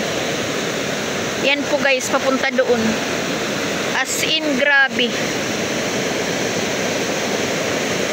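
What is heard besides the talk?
swollen stream rushing after rain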